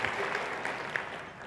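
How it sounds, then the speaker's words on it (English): An audience at a talk on Great Lakes water gives a round of applause, a soft, fairly distant wash of clapping that holds steady through the short clip. "Will you join me in recognizing them with a round of applause?"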